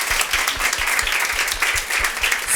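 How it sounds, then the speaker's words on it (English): Audience applause after a seminar talk on materials, steady dense clapping with sharp hand claps throughout, fairly close and without speech. "A round of applause again"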